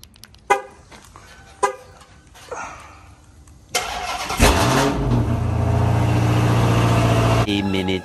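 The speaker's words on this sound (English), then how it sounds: "I'm just going to go ahead and give you guys a nice cold start" Dodge Hellcat engine cold start: several sharp clicks and cranking bursts, then the engine catches with a loud roar and settles into a steady, throbbing high idle up close.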